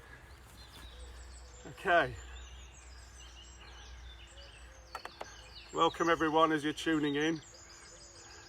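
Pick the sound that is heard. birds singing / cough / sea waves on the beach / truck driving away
birds singing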